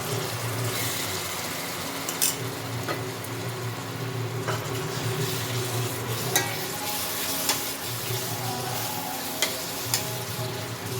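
Chicken masala spice paste with a little water is stir-fried for chicken kosha, a dense sizzle under repeated scraping strokes of a spatula against the pan and a few sharp knocks, no talking.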